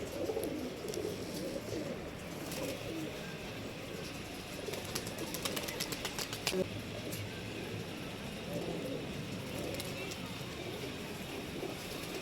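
Pigeons coo steadily near a trap net outdoors, a soft continuous murmur with a few brief wing flaps and clicks in the middle, while people talk quietly in the background.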